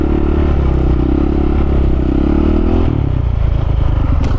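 A supermoto motorcycle performing a clutch coaster stunt, its engine droning loud and close without a break, the tone shifting and growing rougher partway through, with faint scraping and clatter mixed in.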